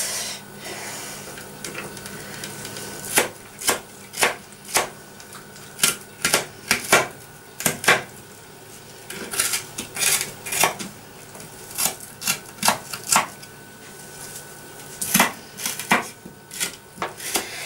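Knife chopping onions for Hungarian goulash, a series of sharp, close knocks on a board coming in irregular bursts, with no voice.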